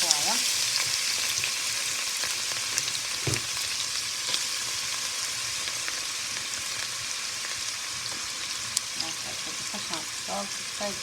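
Chopped onions frying in hot oil in a cooking pot give a steady, close sizzle with faint crackles and occasional stirring clicks, and little speech around it.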